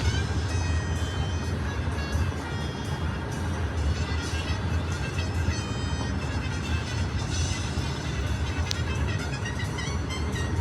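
A train rolls past in heavy fog with a continuous, loud rumble and rattle of wheels and cars, steady throughout with faint tonal squeals above the roar.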